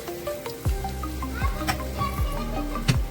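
Spices being stir-fried and mixed in a pan, with a soft sizzle and a few distinct scraping strokes of stirring at a steady pace.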